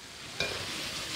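Beef intestine and spices hit hot rapeseed oil in a wok over high heat, a short sizzle of stir-frying that swells suddenly and hisses steadily, close and clear.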